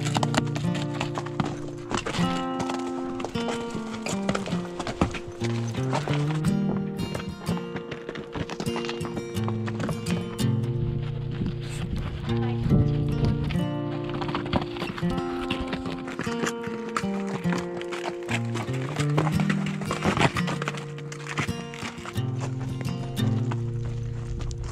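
Horses walking through the Namibian desert, their hooves clip-clopping in a steady, close, continuous rhythm while a horse neighs now and then, with voices in the background.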